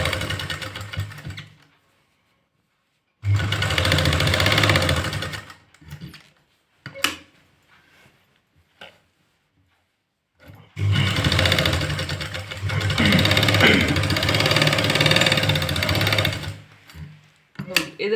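An electric sewing machine stitches a seam at the hip of a women's suit, running in two long, loud, steady bursts with shorter stops and brief starts between them, close by.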